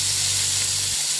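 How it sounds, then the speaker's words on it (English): Tadka of spices sizzling in hot desi ghee, a loud close hissing crackle with a low hum beneath that drops away near the end. "By the way, this is tadka with desi ghee."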